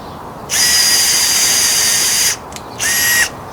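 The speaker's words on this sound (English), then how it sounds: "I'm going to start drilling this hole about 6 inches in from the edge." Power drill boring a hole into timber for a retaining wall planter, a loud high motor whine held for nearly two seconds, a short pause, then a second shorter burst, close up with no talk.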